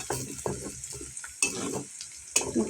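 Onions frying in a pan for beef tripe curry, a close sizzle broken by rhythmic scraping stirs of a spatula against the pan, with a few sharp metallic clinks.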